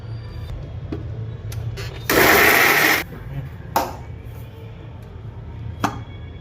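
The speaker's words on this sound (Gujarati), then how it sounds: "અને પીસી દઈએ." A mixer grinder blends chilli garlic chutney with salt, coriander-cumin powder and a little water, a loud steady whir lasting under a second, framed by faint clicks and handling knocks.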